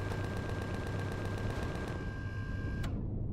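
Cannon drone firing in the space survival game Empyrion Galactic Survival: a rapid, evenly spaced string of sharp shots over a steady low hum. A single last crack sounds before the clip falls quiet.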